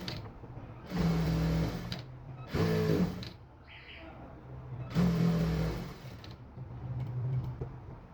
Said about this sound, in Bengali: এবার দ্বিতীয় পায়ের মুড়িতে হাফ ইঞ্চি সেলাই করে নিব